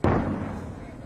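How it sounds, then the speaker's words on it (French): A single mortar round fires in a combat zone, a sharp, heavy boom followed by a decaying rumbling tail, loud and close, heard alone. "c'est mortier et fume"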